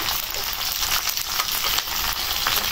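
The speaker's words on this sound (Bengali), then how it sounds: "পেঁয়াজটা ভাজা হয়ে গেল, দিয়ে দিই কাঁচা মরিচ।" Onion and green chili sizzle in a pan for a river fish curry, a loud, dense, steady hiss of frying oil with no voices.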